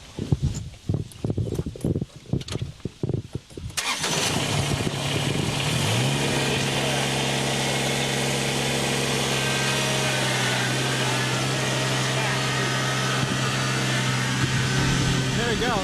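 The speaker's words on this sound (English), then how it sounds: "Pastor Doug popping a wheelie on his little tractor, his big tractor, his diesel." A big diesel tractor engine cranks with a few choppy bursts, then catches and settles into a loud, steady rumble with a rising tone as it pulls away.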